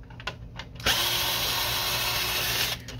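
A power screwdriver whirs steadily for about two seconds while backing screws out of a Canon Pixma MG5220 printer, preceded by a few small clicks and handling taps, close and loud.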